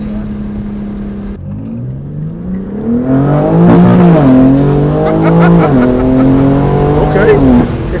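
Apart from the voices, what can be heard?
BMW G80 M3 engine revving with PSI midpipe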